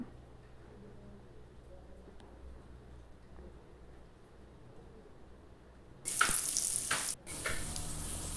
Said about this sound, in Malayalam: അപ്പോൾ ഇത് നന്നായിട്ട് തന്നെ തിളച്ച് വരുന്നുണ്ട്.